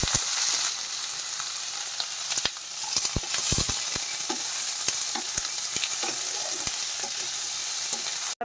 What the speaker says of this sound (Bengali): তেলটা ভালো করে গরম হলে, অলরেডি গরম হয়ে গিয়েছে আমার কড়াই, আগেই বসানো ছিল, তো আমি পেঁয়াজের বেরেস্তাটা ভাজবো।